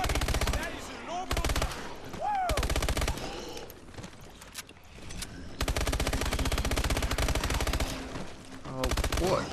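Rapid automatic gunfire in Call of Duty Advanced Warfare Exo Zombies, long loud bursts with short gaps between them, mixed with game effects and a brief voice.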